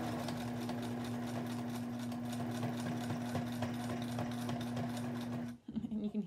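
A sewing machine stitches through thick quilt layers, running steadily with a rapid, rhythmic needle hammering, loud and close, then stops abruptly near the end.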